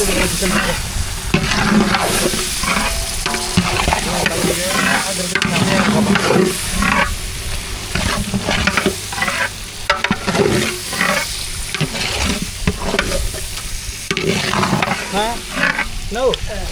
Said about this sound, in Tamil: வெங்காயம் தக்காளி எல்லாம் நல்லா வதங்கிடுச்சு